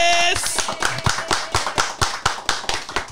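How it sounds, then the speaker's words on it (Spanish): Short burst of clapping closing a podcast episode, rhythmic sharp claps close by after a spoken exclamation at the start. "¡Aplausos!"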